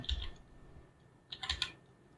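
Typing on a computer keyboard, two quick clusters of soft, close keystroke clicks separated by a short pause in an otherwise quiet room.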